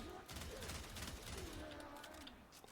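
Semi-automatic gunfire from the Tiberon Prime rifle in the Warframe video game, faint and distant, a series of quick shots in rapid succession beneath background game sound.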